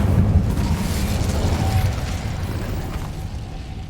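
Fiery spell cast in the Hogwarts Legacy video game, a rumbling, roaring whoosh of flame that swells at once and then slowly tapers off.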